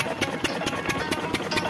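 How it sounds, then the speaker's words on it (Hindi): An old diesel engine driving a tubewell pump runs in a steady, rhythmic thumping chug, close and continuous with no talk over it. "डीजल इंजन चलते सीगे, तुसीं देख रहे हो।"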